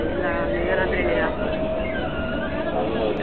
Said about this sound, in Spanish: Tranvía